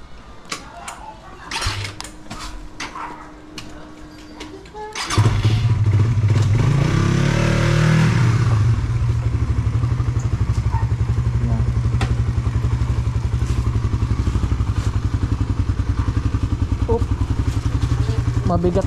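A motorcycle engine starts up partway through and settles into a loud, steady idle rumble close by, following quieter rattling and handling sounds.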